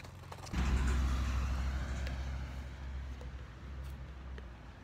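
Road truck passing close by, a sudden loud rumbling rush that swells in and then slowly fades, with steady traffic noise around it.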